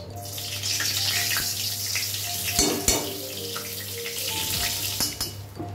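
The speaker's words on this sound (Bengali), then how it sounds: "একটু জিরে ফোড়ন দিয়ে দিলাম, তেজপাতা দিয়ে দিলাম।" Cumin seeds and a bay leaf hit hot mustard oil and ghee, giving a continuous close crackling sizzle with a few sharp pops and clicks.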